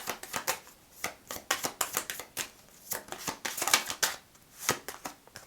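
Tarot cards shuffled by hand in quick, irregular riffling bursts, close and fairly quiet, with no talking.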